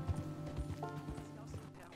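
Hooves of a Tennessee Walker horse in Red Dead Redemption 2 clip-clop in a steady rhythm, close and moderately loud over a continuous game soundscape.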